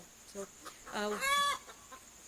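A hen on a rabbit farm clucks in a short, close burst of calls, preceded by someone briefly speaking.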